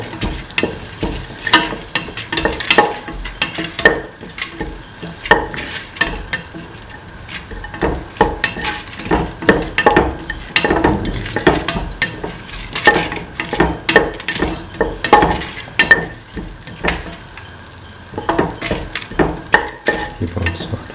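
Tomato pieces sautéed in a pan with constant stirring, a loud close sizzle broken by rhythmic spoon scrapes and occasional clinks against the pan, no talking.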